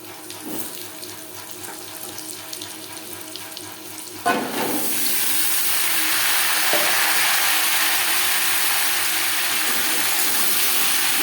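A bay leaf and panch phoron hit hot oil for a rui fish curry with potato. A quiet kitchen bursts into a loud, steady sizzle that carries on evenly, near and close.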